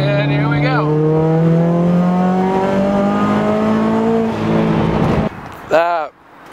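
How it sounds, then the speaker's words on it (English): A boosted Subaru BRZ pulls hard in third gear, its engine note rising steadily and loud from inside the cabin, with a shift or lift near the end and a voice talking over it. "I'm gonna do a little third gear pull for you guys as soon as this bend ends."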